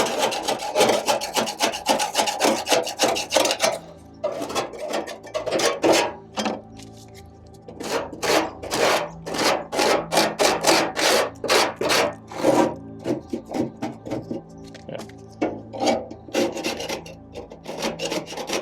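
A 3D printed scraper scrapes baked-on grease off an air fryer, giving steady rasping strokes in quick, repeated bursts, close and loud, with short pauses between runs.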